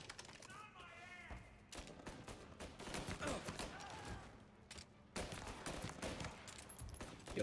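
Rapid bursts of gunshots in the video game Mafia Definitive Edition crackle through most of the stretch, dense and loud with short gaps, a voice speaking briefly near the start.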